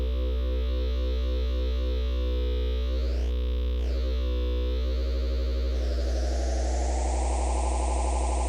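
Pigments synthesizer's harmonic engine plays a sustained buzzy tone whose sine-wave partials shift and cluster as density changes, sweeping upward into a brighter, denser timbre with a steady loud low drone underneath.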